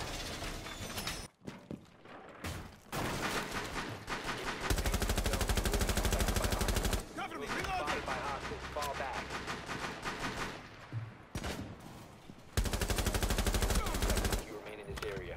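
Repeated bursts of automatic gunfire and single shots in Rainbow Six Siege, loud and close, with rapid rhythmic rattling broken by brief pauses and mechanical clicks, and a voice talking in places.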